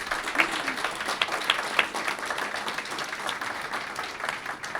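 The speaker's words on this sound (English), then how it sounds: "A round of applause for our guests" Audience applause for guests at the close of a live debate and book launch in New York, a moderate room of clapping with a few sharper individual claps, steady throughout.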